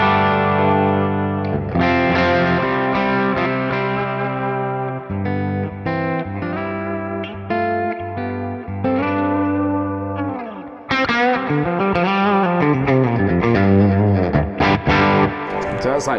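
A Music Man signature electric guitar on its bridge pickup plays heavily distorted chords and notes, loud and sustained, closing with bending, vibrato-laden lead lines.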